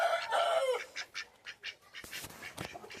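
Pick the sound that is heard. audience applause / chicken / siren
chicken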